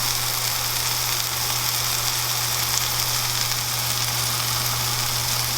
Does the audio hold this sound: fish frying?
yes